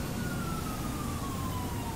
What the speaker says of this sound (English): The ambulance is rolling up too.